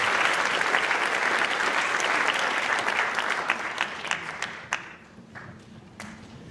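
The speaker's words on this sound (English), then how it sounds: "Let's give them a nice round of applause behind the scenes workers." A school winter concert audience applauds loudly in a dense, continuous wash of clapping that thins out over the last couple of seconds into a few scattered, separate claps.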